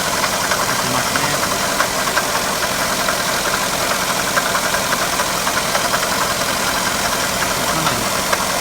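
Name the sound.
abnormal rattling noise from Daihatsu Tanto water pump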